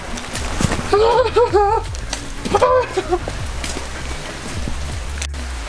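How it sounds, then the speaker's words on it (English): Heavy rain pours steadily outdoors during work on an E60 BMW M5, a continuous broadband hiss throughout, with a voice rising briefly over it early on. "It's raining hard."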